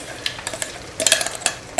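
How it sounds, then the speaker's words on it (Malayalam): Chilli paste made from ground dried chillies blended with vinegar water, tipped into hot oil for chilli chicken, sizzles and fries while a utensil scrapes and stirs the pan in repeated close, sharp strokes. "എണ്ണ ചൂടാകുമ്പോൾ അതിലോട്ട് അങ്ങിട്ട് കൊടുക്കുക."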